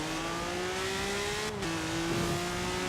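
Ferrari 812 Superfast from Forza Horizon 4 accelerating hard at high speed, a loud, sustained engine howl with pitch climbing steadily and a brief dip near the middle as a gear changes.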